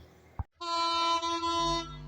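A short click, then a loud train horn blares steadily and close for over a second, with a low rumble beneath it, as a train runs through Khankhanapur station without stopping.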